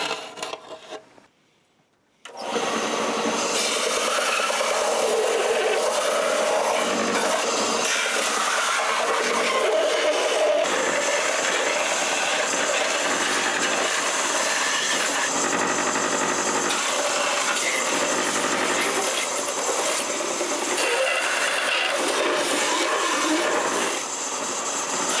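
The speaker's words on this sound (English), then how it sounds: "When you're using the belt sander, it's a good idea to look on the inside surface." A belt sander working a B-Wing helmet prop, a loud continuous motor whine and abrasive grinding that starts after a brief quiet moment and runs steadily without pause.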